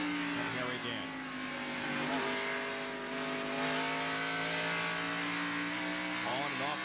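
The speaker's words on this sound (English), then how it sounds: "On and off the accelerator." Ernie Irvan's NASCAR Winston Cup race car at the 1991 Bud 500 roars from onboard, its engine note climbing and falling steadily as the throttle comes on and off, loud and continuous.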